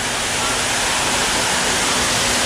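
A waterfall on a small creek roars as a steady, loud, unbroken rush of water close by.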